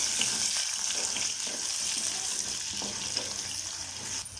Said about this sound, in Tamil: வெங்காயம்லாம் சேர்த்து நல்லா வதக்கியாச்சு